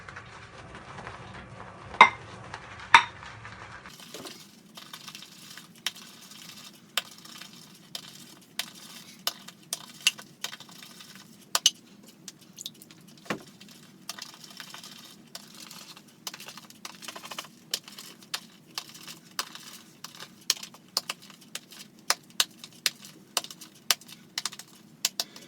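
A shaving brush whips up lather for double-edge shaving, giving a steady run of soft, wet clicking and swishing strokes at close range, with a few louder taps near the start.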